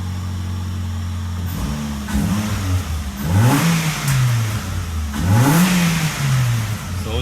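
A Ford Focus engine with newly replaced motor mounts runs at a steady idle, then is blipped twice, each rev climbing and falling back smoothly. Close and clear, with no talking.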